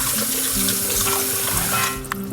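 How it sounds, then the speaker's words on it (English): Cool tap water runs steadily into a sink while paneer is rinsed to make rasgulla, a loud continuous splashing stream that shifts slightly near the end as the flow is disturbed. "Now wash it with cool water so that the paneer doesn't become hard"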